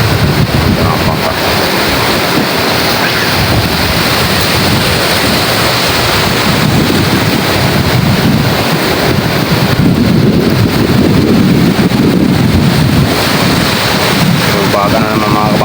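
Strong waves and gusting wind from typhoon Crising along a shore, a loud continuous roar of surf with heavy wind noise battering the microphone throughout.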